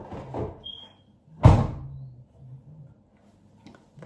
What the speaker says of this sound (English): Pretty sure that's our smoke alarm that's dying on us.